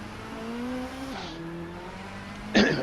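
Touring cars racing in a 1990s British Touring Car Championship video game: a steady engine drone with a pitch drop as a gear changes, then a sudden louder burst near the end, alone without talk.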